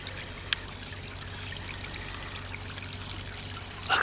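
Water trickles and pours steadily from a fountain during a snowstorm, a soft continuous splashing hiss with a couple of faint clicks, no voices.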